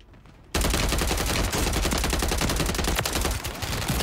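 Rapid automatic gunfire in a shooter video game erupts suddenly after a brief quiet moment, then continues as a dense, loud, sustained burst of shots that keeps going to the end.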